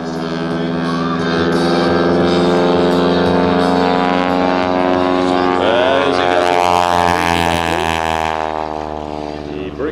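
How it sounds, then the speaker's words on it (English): Loud, throbbing radial engine of a Grumman Showcat biplane at an airshow, roaring steadily through a loop, the pitch shifting as the aircraft passes overhead. "Horsepower in the big Grumman Showcat."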